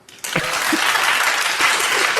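A live audience breaks into sudden applause, a loud, dense wash of clapping that starts abruptly and holds steady, with scattered whoops mixed in.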